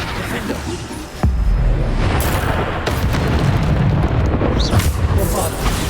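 A heavy booming spell explosion in the video game Hogwarts Legacy, a loud blast at the start followed by a dense, sustained rumble with smaller bursts layered over it during a chaotic duel.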